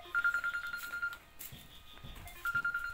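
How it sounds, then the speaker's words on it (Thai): A phone rings at a plant garden, its electronic ringtone repeating in two short bursts with a pause between them, over faint background noise. "เดี๋ยวให้พี่แกรับโทรศัพท์แป๊บนึงครับ"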